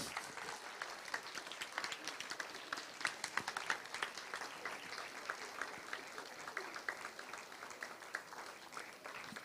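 An audience at a research conference claps in a dense, even patter of many hands, heard from a distance and fairly faint, holding steady throughout.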